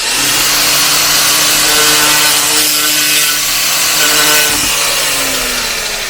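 A file is drawn lightly along the edge of a wood chipper blade to remove the burr, giving a loud, continuous rasping scrape close by with a faint, steady hum underneath.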